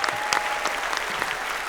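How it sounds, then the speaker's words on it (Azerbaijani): An audience applauds, a dense burst of clapping with crowd noise, loud and continuous through the short stretch. "Polad Bülbüloğlu'ya gürültülü alqışlar."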